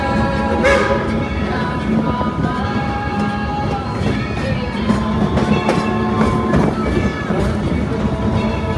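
Steady rumble and rattle of a train rolling along the tracks at an amusement park, with rhythmic clacking and some voices in the background throughout.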